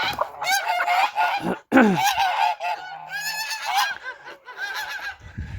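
Ducks and drakes in a farmyard call loudly and repeatedly: overlapping honking, quacking cries close by, with a short break near the middle before the calls resume.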